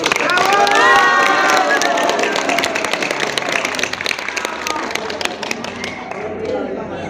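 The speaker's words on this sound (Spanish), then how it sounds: "Así que les vamos a dar fuerte aplausos para los nuevos supervisores." Applause and cheering from an audience at a company rally event in Juliaca, Puno, Peru, greeting new supervisors; a dense wash of clapping and crowd voices that stays steady and loud, then thins toward the end.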